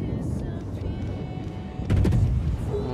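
Naval guns firing in World of Warships: a deep rolling boom arrives partway through over a constant low battle rumble, loud and heavy with a brief burst of crackle.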